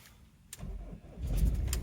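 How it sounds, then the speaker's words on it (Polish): A BMW E46 with an air-locked cooling system starts up: a brief crank, then the engine catches and settles into a steady, close, rumbling run that grows louder. "Jeszcze tylko trzeba tutaj odpalić go, a tutaj nie jest takie łatwe to w nim."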